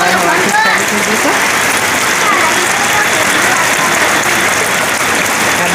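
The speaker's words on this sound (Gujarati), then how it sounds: "જોરદાર વરસાદ આવી છે આજે હવાથી ચાલુ થઈ ગયું છે।" Heavy rain pours down on a farm in Gujarat, a dense, steady hiss of drops drumming on surfaces, loud and continuous with a faint voice briefly underneath.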